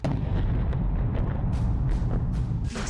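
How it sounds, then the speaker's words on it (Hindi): A massive 1500 kg UPAB-1500 guided bomb explosion: a continuous, loud, deep rumbling roar with rough crackling bursts, staying steady and heavy throughout. "दूसरा धमाका,"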